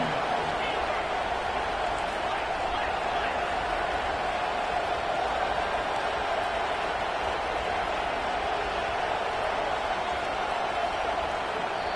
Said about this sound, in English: the crowd forces a false start.